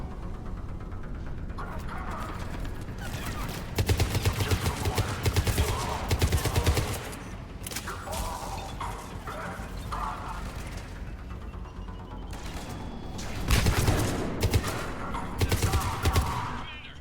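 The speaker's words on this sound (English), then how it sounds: "We're getting a lot of mortar fire." Mortar fire and gunfire in a Mass Effect 3 battle against Cerberus, with continuous dense rattling fire and heavier bursts of impacts, loud and sustained throughout.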